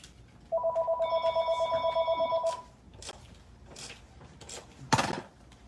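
A telephone rings in a quiet room, a steady pulsing electronic ring repeating for about two seconds, followed by faint handling noises and a short louder knock near the end.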